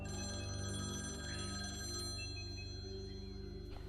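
A landline telephone rings on an outgoing 911 emergency call, a clear electronic ring tone repeating steadily and alone, fairly quiet.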